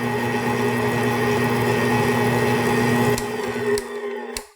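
A VIVOHOME 800-watt, 6.7-quart stand mixer working bread or cookie dough, its motor giving a loud, steady whine with strong hum that runs evenly, then winds down with a few clicks before stopping.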